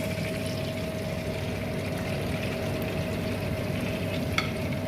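Continuous sizzling and bubbling of large hilsa fish pieces frying in a pan, steady and close, with no talking.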